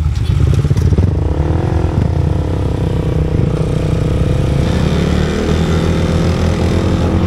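A Yamaha Sniper 155 VVA motorcycle engine drones loud and steady while riding at high speed in sixth gear, a continuous close roar with shifting pitch and no talk.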